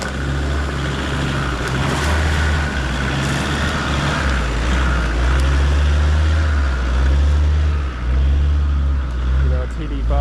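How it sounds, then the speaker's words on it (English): A TD5 diesel engine in an off-road vehicle drones with a loud, steady low rumble throughout, swelling and easing slightly as it runs. "You know, TD5 engine noise."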